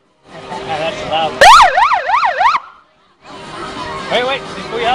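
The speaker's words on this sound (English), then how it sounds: "you want to do the siren real quick?" Police car siren in Trenton, New Jersey, sounded briefly during a demonstration: a loud, fast rising-and-falling wail that cuts in sharply and stops after about a second, with people talking before and after it.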